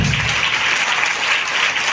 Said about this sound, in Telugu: చప్పట్లతో ఆయన కోరిక మద్దతుగా గట్టిగా కొట్టాలి